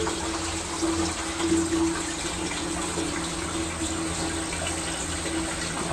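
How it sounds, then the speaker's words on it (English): Water rushes steadily into a 40-gallon solar water heater tank with a constant gushing hiss and a faint pump-like hum, close and unbroken. "That's the solar water heater filling up,"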